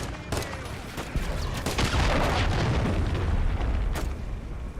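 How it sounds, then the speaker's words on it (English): Cruise missile strike in a first-person shooter game: a dense, continuous rumble of overlapping explosions and booming blasts, loud and sustained for several seconds with sharp cracks breaking through. "Friendly cruise missile deployed."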